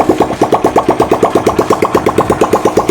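A Bajaj Discover 100cc motorcycle engine with no silencer fitted, started and running with a loud, raw, rapid chugging beat of sharp exhaust pulses, close by and steady.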